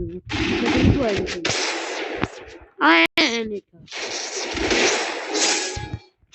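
Gunfire in a shooting video game match with headshots, bursts of loud close shots and clattering impacts interrupted by short gaps, with a voice talking over parts of it.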